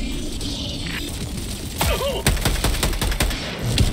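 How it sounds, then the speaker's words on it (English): Orbital barrage strike in a video game, a rapid volley of sharp explosive impacts and cracks that builds after a rumbling lead-in, with several loud blasts crowding together near the end. "Firing orbital barrage. Clear the area."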